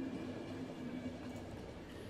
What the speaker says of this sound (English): This train doesn't look that safe.